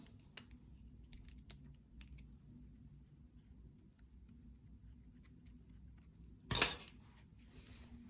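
Scissors snip through crochet yarn at the end of a men's hat, a single sharp close cut after several seconds of quiet, faint ticking and shuffling.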